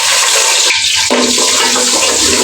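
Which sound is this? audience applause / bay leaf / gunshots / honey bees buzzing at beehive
bay leaf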